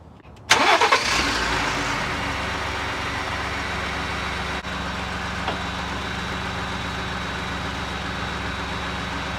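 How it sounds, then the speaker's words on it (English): A Ford truck engine cranks and starts with a sudden loud catch, then settles into a steady idle that continues for several seconds with no talking. "I'm gonna go ahead and start the vehicle in two-wheel drive."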